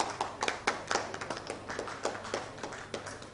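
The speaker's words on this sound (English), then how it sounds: "Round of applause, please." Sparse audience clapping at an education summit award presentation, a small group's distinct, uneven hand claps, fairly quiet and distant in a large hall.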